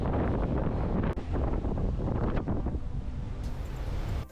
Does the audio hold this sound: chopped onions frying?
no